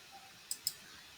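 Two quick, crisp computer mouse clicks a fraction of a second apart, close and clear against a quiet room hum, while working in Microsoft Word's menus.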